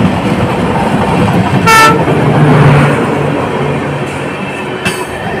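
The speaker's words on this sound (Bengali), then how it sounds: "এই ট্রেনটা নির্দিষ্ট সময় থেকে 1 মিনিট দেরিতে ছাড়লো নিউ জলপাইগুড়ি স্টেশন থেকে" The Paharia Express train pulling out of New Jalpaiguri station, a loud steady rumble of rolling wagons with horn toots and clicking bursts rising above it, heard from close by without any talk.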